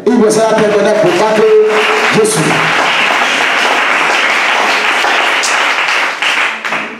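A church congregation applauding and cheering during a sermon on marriage, a loud, dense wash of clapping that holds steady for several seconds before tapering off, with voices mixed in at the start.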